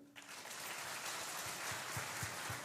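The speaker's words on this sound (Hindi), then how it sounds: "ताली बजा दीजिए।" A crowd at a religious gathering for Pandokhar Sarkar bursts into loud, sustained applause that swells quickly and holds steady, a dense wash of many hands clapping together.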